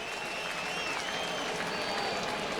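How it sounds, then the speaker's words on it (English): A crowd at a Brewers versus Athletics baseball game applauds, a continuous broad roar of distant clapping and cheering across a big stadium, with a faint broadcast voice underneath. "the crowd giving him the applause"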